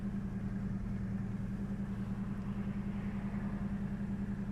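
A 1970 Dodge Challenger T/A with a 340 Six Pack V8 idles nearby. The low, even rumble stays steady and unbroken, with no revving and no voices.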